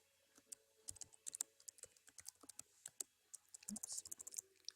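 Computer keyboard typing in a quiet room as a name is entered while setting up an Outlook email account, a quick irregular run of soft clicking keystrokes up close.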